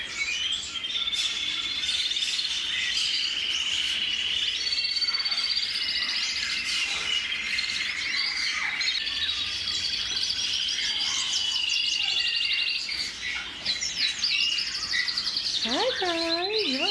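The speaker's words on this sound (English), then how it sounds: "Lots of canaries here." Many canaries trill and chirp together in a bird store, a dense, continuous chorus of high warbling song close by, with other small birds mixed in and brief rising calls near the end.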